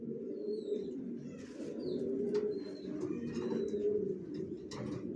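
Racer pigeons coo in soft, repeated low throaty phrases close by, with a few faint chirps from other birds in the background.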